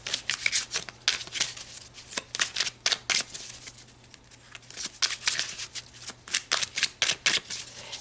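Tarot cards being shuffled in a quiet room, a steady run of crisp riffling bursts with short pauses between passes, close and alone with no talking.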